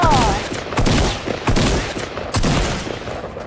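Rapid bursts of gunfire crackle in a Fortnite match. Several loud volleys come close together with brief gaps between them, and no voice is heard.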